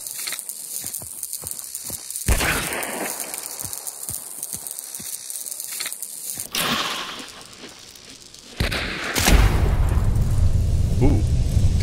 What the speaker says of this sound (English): a flash bomb that's been thrown into the air can be shot out of the air and detonated.